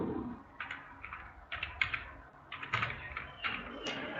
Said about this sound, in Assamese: মই মোৰ পান নাম্বাৰটো টাইপ কৰি দিছোঁ।